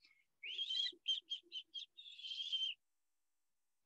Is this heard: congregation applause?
no